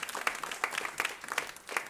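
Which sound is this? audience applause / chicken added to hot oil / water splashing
audience applause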